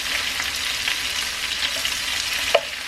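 Whole head-on shrimp fry in oil in a slightly dented pan, giving a steady, even sizzle with small crackles and one sharper pop near the end, with no voices.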